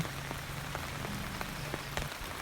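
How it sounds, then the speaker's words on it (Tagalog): Rain falls steadily at dusk, a continuous soft hiss with scattered individual drops tapping a nearby surface at irregular intervals, no talking. "Umulan tayo ngayon."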